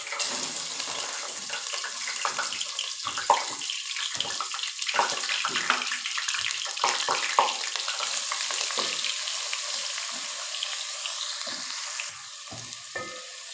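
Ginger garlic paste, three tablespoons, sizzles and crackles as it fries in a pan for chicken gravy, a steady close hiss with scraping stirs, and no talking.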